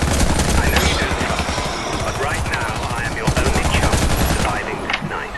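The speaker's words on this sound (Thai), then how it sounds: "ถามว่ายิงระยะไกลได้ไหมก็ ได้" A rifle fitted with a red dot sight fires in the shooter game Warface, a dense run of rapid, loud shots with overlapping bursts and reports throughout, under game ambience.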